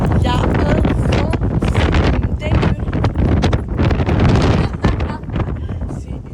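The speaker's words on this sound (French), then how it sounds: "Le vent à la mer, c'est hard" Strong seaside wind buffets the microphone with loud, constant low rumble and gusty roar throughout, with no talk.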